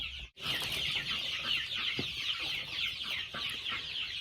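Chicks cheep steadily inside a brooder after a cold ice storm with the power out, a dense, continuous chorus of peeping from close by, broken only by one brief pause near the start.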